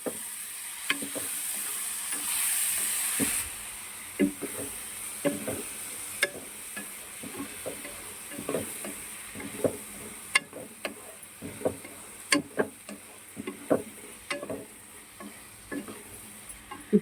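Potatoes roast in a pan for potato curry under a steady soft sizzle, while a spoon scrapes and stirs in repeated knocks and clicks.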